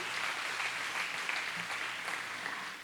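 Audience applause at a Brahma Kumaris inaugural ceremony for a marketing conference, a steady wash of clapping from a hall crowd that holds evenly for a few seconds.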